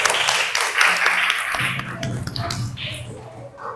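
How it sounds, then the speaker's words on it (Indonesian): Brief, close applause from a small group of students in a classroom, a quick burst of claps that quickly thins into scattered taps and shuffling. "Kasih tepuk tangan."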